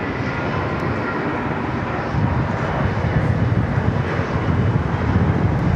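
An Air Asia airliner in special anniversary livery departs runway 34 left at Sydney Airport, a broad, steady jet roar close by that builds slightly and holds continuously, with wind rumble and no talk.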